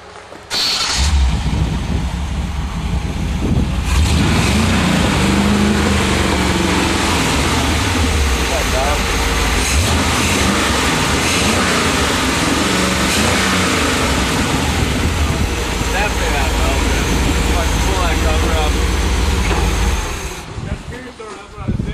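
A Jeep 2.8 engine runs loud and close for about twenty seconds, revving up and easing off with a rough mid-range roar. No one speaks.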